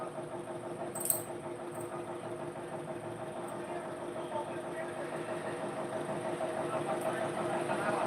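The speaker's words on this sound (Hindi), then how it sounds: "यही वो ट्रैक्टर जो है सामने खड़ा है वही स्टार्ट किए हैं" A parked tractor's engine idles in a steady, low, even drone that stays fairly faint in the background and swells slightly toward the end.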